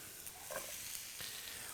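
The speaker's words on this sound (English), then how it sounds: "When you add something like a vegetable or a fruit to a pan after you've seared the meat," Vegetables and fruit sizzling in a hot pan right after meat has been seared, a steady faint frying hiss with a few soft stirring pops, close and continuous without talking.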